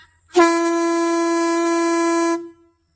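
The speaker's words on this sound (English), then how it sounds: "Pretty cool horn." A loud, steady air horn blares for about two seconds and then cuts off, with silence before and after.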